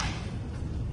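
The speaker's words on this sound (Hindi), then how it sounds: "जोरदार धमाका हुआ।" A loud, deep explosion from a missile attack in Tel Aviv rumbles heavily through the whole second, with no gap in its low, booming roar.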